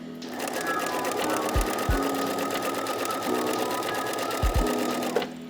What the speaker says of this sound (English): as you're stitching, you're pulling your fabric flat and not stitching in any of those puckers